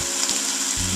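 Spaghetti sauce being stirred into browned meat in a hot pan: a steady, close hiss of sizzling with a brief stirring knock near the start, no voices.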